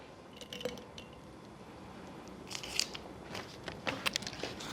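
A pen or pencil scratches across paper while a conclusion is written, giving faint, intermittent scratchy strokes in short bursts over a quiet room background.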